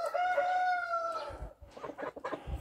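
A rooster's crow trails off close by, followed by short clucks and rustling movement in a farmyard.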